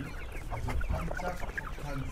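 Chickens for sale at a weekly market in Yeonggwang-gun, South Korea, clucking and murmuring in short overlapping bursts close by, over a dense background of market bustle.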